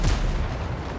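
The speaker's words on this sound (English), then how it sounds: "Man the cannons!" A ship cannon firing in the Windrose video game, a single deep booming report with a low rumbling tail lasting about a second.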